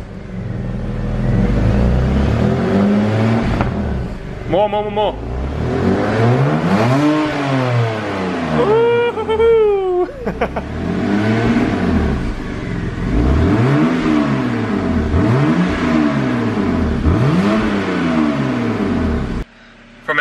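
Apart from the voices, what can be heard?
car engine revving with modified exhaust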